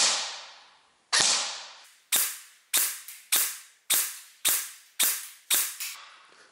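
Sharp airsoft shots from an E&C SMR16 / M4 A1 airsoft rifle crack one after another, about ten evenly spaced pops, each with a brief ringing tail, close and loud.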